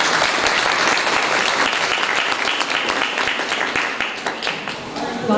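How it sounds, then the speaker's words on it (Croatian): At a poetry book launch, the audience breaks into loud, sustained clapping for the author, a thick wash of hand claps that eases off slightly toward the end. "molim da pozdravimo još jednim velikim aplauzom"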